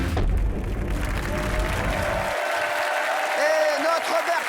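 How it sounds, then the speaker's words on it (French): A TV studio audience breaks into dense, loud applause for a guest, the clapping continuing steadily while a voice speaks over it. "Applaudissements pour Bertrand Chameroy."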